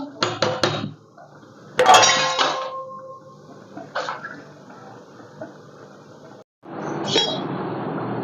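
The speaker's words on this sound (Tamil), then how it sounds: "இதை இதில் போட்டுறேன் போட்டு கலந்து விட்டுக்கிறோம்" Dried fish is stirred into a curry in a metal pot, with sharp clinks and scrapes of a spoon against the pot, short bursts separated by quieter stretches of soft liquid churning.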